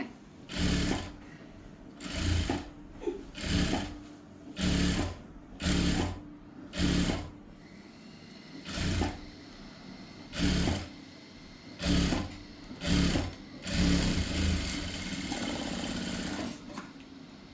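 A sewing machine stitching the collar of a top runs in about a dozen short bursts of rapid clatter separated by brief pauses, close and clear, ending in a longer run.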